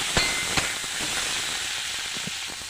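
Garlic paste sautéing in hot oil in a pan gives a steady, close broadband sizzle and hiss, with a couple of soft pops near the start and no voices.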